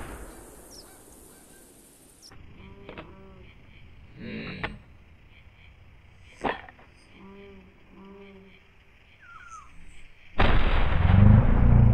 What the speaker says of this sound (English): That was some bad shooting from me.